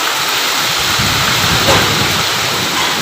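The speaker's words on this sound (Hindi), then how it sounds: "बारिश में बहुत तेज़ माशाल्लाह हो रही है" Heavy monsoon rain falling in the streets, a loud, steady broadband hiss of downpour on surfaces that continues unbroken, with no clear voices.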